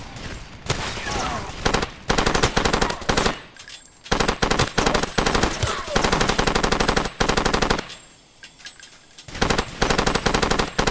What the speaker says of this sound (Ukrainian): та досить там стріляти по мені